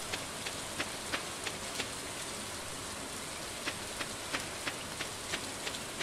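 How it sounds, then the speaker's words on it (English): Rain falling in the farming video game Stardew Valley, a soft continuous hiss of steady rainfall with scattered light droplet ticks, faint and even with no voices. "since it's raining"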